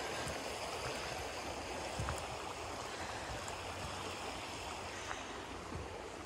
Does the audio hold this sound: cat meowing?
no